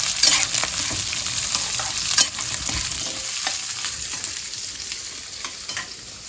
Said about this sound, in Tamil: போட்டு எண்ணெயில் நல்லா வதக்கிடணும்.